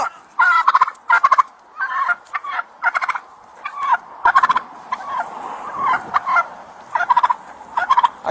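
Close, loud bursts of rapid clucking and gobbling from a chicken attacking a deputy, coming in repeated clusters with brief gaps over several seconds.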